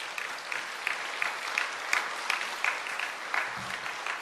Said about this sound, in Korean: 우리 박수 한번 해주시기 바랍니다.